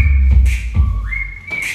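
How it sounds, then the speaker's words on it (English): A person whistles a bright, steady tone during a children's dance class, the pitch holding level, then dipping and rising again, broken by a few soft thumps and breathy sounds. "Make a whistle like a whistle."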